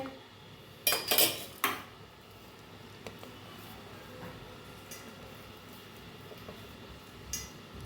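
Boiled peanuts tip into a bowl of spices mixed with lemon for a chatpati chaat, making a short cluster of clattering scrapes and knocks early on, then only quiet room noise with faint ticks.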